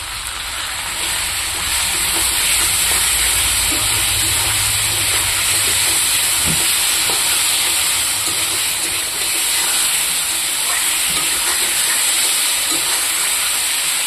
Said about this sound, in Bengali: এটা দিয়ে আমি কিছুক্ষণ ভাজবো